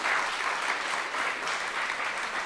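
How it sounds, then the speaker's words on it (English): An audience claps their hands in steady, dense applause that carries on without a break, with no talking over it. "Clap your hands like you're going to take your family to a whole different level."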